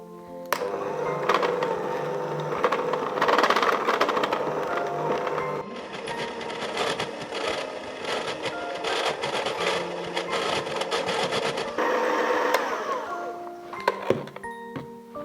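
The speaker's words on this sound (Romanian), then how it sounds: "Amestecăm cu mixerul la viteză mică și ușor." An electric mixer running on low speed through chocolate cookie dough gives a continuous close motor whir with slight strain and shifts in tone, and a voice is heard faintly at times.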